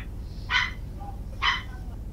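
Two short, clear dog barks from Norscan war hounds in the fantasy strategy game Total War: Warhammer II, spaced about a second apart over a low steady background hum.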